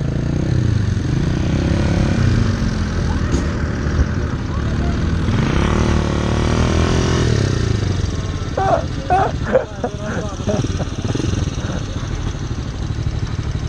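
A scooter engine runs steadily close by on a closed-off road, its drone holding under the whole stretch while people talk over it near the end.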